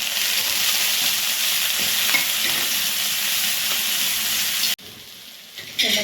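Garlic and finely chopped spring onion sizzle in hot oil in a kadai for vegetable fried rice, a steady bright hiss that drops suddenly near the end, then picks up again.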